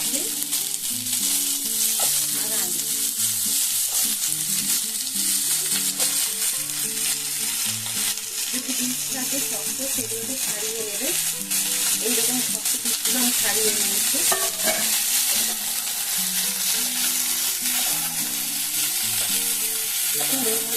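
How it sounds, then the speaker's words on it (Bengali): Onions frying in oil in a pan at home, with steady close sizzling and repeated scraping stirs of a spatula throughout, no talking. "পেঁয়াজগুলো কিন্তু দেখুন ভাজা হয়ে গেছে"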